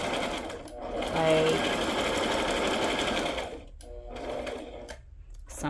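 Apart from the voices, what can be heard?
sewing machine sewing a zigzag stitch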